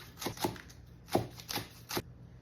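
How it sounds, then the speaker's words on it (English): A knife slices kaffir lime leaves on a cutting board, producing four or five crisp, dry chopping strokes in an uneven rhythm, close and fairly quiet. "Slice our kaffir lime leaf."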